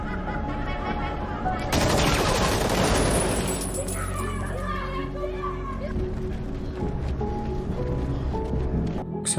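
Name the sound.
gunfire in a film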